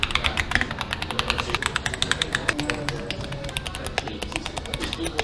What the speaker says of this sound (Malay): Kita boleh test typing, nak dengar bunyi macam mana.